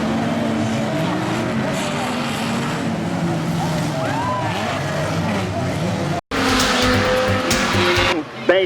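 A heavy banger racing car slides sideways around a dirt track. Engines roar and tyres squeal in a dense, loud wash of crowd and commentary noise, followed by a sudden cut and a brighter burst of revving.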